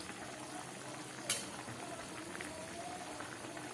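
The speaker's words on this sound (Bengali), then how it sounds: "তরকারিটা ফুটে উঠেছে" A pot of chana dal dhoka curry with potatoes simmers on a gas stove, giving a soft, steady bubbling hiss with faint pops and one sharp clink partway through, all fairly quiet.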